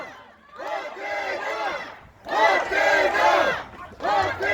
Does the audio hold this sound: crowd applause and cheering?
yes